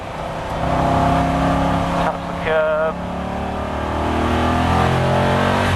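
An Aston Martin V8 Vantage GT4 race car downshifts into third on a track, its loud in-cabin engine note dropping and blipping sharply mid-clip before droning steadily on, with people talking over it.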